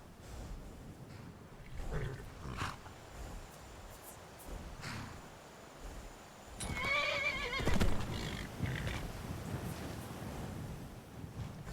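A horse whinnies loudly once, near and alone, with faint hoof clops and wind noise around it and quieter snorts before and after.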